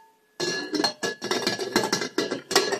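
A stand mixer bowl is set down and twisted into its base, giving a quick series of hard clinks and clunks close by, with no talking.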